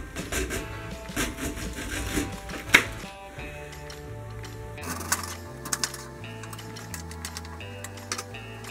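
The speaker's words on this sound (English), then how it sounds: "So get your half a head of cabbage and start slicing it long ways." A knife slices lengthwise through half a head of cabbage in a quiet kitchen, giving a run of crisp, close cutting strokes and board taps with one sharper crunch, followed by softer, irregular chops.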